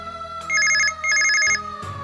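A telephone rings in a Hindi TV drama scene: two bursts of a bright electronic ringtone trill, close and clear, over a low background hum with no talk.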